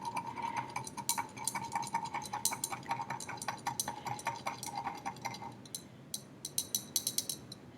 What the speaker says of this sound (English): Agitate with my stirring rod.